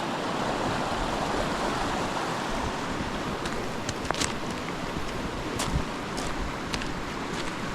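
Brook flowing beneath an old abandoned railway bridge, a steady close rush of water with occasional small splashes and sharp ticks, continuous and unbroken with no voices.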